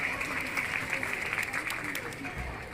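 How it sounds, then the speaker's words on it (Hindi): A crowd at a community birth-anniversary celebration for a deity in Biaora claps steadily, a soft continuous patter of many hands heard at moderate distance with a faint hum underneath. "सम्मान के लिए जोरदार तालियां खुद के लिए बनाएं।"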